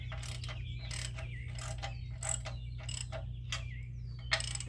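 A Fulton spare tire mount on a trailer is cranked tight with a ratcheting tool, giving a steady series of close, rhythmic clicking bursts over a low constant hum.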